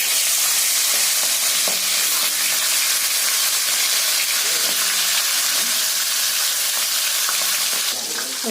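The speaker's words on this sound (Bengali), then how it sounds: "এদিকে মাছটা ভাজা হচ্ছে," Catla fish heads coated in salt and turmeric sizzle and crackle steadily in hot oil in a wok, a loud, constant frying hiss with occasional stirring clatter and a sharper spatter near the end.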